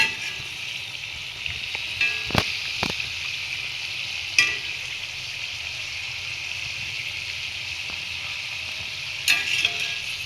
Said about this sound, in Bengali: এই যে দেখো এগুলো ভাজছি এখন, আস্তে আস্তে ভাজা হচ্ছে